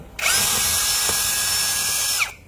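A power drill whirs steadily at close range for about two seconds, starting and stopping abruptly, a smooth continuous spin with no hammering rhythm.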